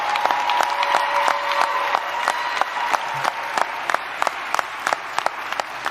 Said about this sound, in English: that is something you can applaud for